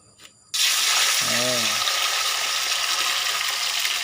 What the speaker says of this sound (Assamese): মাছ ফ্ৰাই হৈছে।